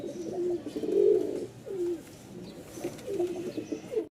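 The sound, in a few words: biscuit-coloured pigeons cooing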